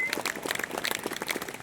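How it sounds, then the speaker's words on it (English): An audience at a Salute to America event with the Detroit Symphony Orchestra applauds volunteers. Brief, steady, moderately distant clapping from many hands runs throughout, with a voice faintly mixed in. "So please give them a round of applause."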